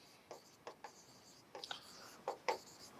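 A marker squeaks and scratches on a board in short separate strokes, a few quiet close scrapes spread over a few seconds with small gaps between them.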